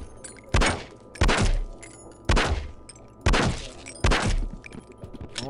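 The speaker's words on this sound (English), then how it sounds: "are designed to disorient people with a very loud bang and an extremely bright" Flashbang grenades detonating in the Swat 4 video game: five sharp, heavy bangs with deep thumps, spaced about a second apart, each cutting off quickly with a brief crackling tail.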